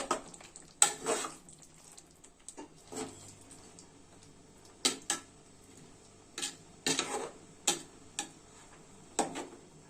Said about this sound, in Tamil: இது ஒரு மீடியம் ஃப்ளேமில் மூடி போட்டு ஒரு 10 மினிட்ஸ் மீனை நல்லா வேக விடலாம்.